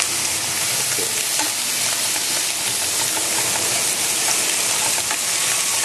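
Shrimp with white pepper stir-fried and tossed in a hot pan for Hokkien mee, a loud, close, steady sizzle with scraping and rustling as the pieces are moved around.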